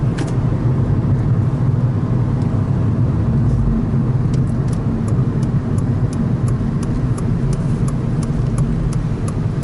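A 2009 Honda Civic Si sedan in Rallye Red drives along with a steady engine drone and road rumble heard from inside the cabin, loud and continuous, with no talking.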